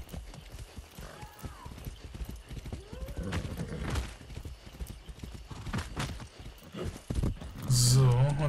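Horse hooves clip-clop in the video game Far Cry 6 in an uneven, repeated rhythm while someone talks over them, with a brief whinny and a louder burst of game sound near the end.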